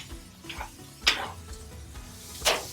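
A zoodle and meatball mixture with marinara sauce is stirred and heated in a pan, soft sizzling under three scraping, clattering stirs of a utensil against the pan, close and fairly loud, no talking.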